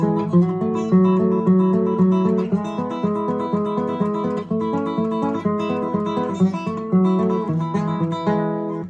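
A guitar is fingerpicked in a steady, repeating arpeggio pattern, each note plucked clearly and ringing together, played close and evenly with no voices.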